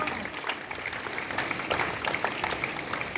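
An audience at a school Eco Club award ceremony claps steadily for invited guests. The applause is fairly soft and distant, an even patter lasting about three seconds, with no voices over it.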